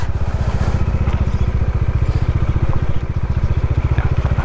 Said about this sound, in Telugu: ఇక నా బైక్ చూడండి ఎంత స్లోగా పోతుందో